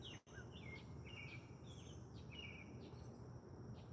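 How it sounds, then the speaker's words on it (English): Evening birdsong on a farmstead, with repeated thin chirps and whistled calls over a steady, dense outdoor hiss, faint and distant, with no talking. "Birds are chirping nice tonight."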